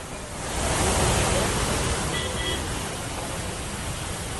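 Floodwater roars through Karli village near Sahastradhara, Dehradun, after a cloudburst, a loud dense broadband rush that swells early and then holds steady without a break.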